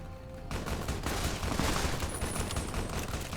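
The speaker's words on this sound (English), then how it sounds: "Who are they shooting?" Sustained gunfire crackles through a battle in Fallout New Vegas, a dense, continuous barrage of overlapping shots that starts after a brief lull and keeps going at a steady, loud level.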